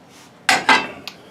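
A Korean cast iron pan, milled smooth inside, being handled: two close metallic clanks followed by a fainter knock, with no talk.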